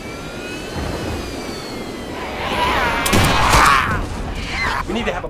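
A jet airliner's engines roar in flight in a zombie horror film, a steady broad rumble with a thin whine that swells louder midway, with faint voices and scattered sharp noises over it.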